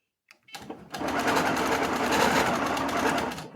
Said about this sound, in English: I'm going to stitch a little bit.